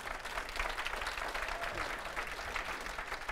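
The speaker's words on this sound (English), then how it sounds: "A well-deserved round of applause" A studio audience gives a steady round of applause, moderately loud and unbroken throughout.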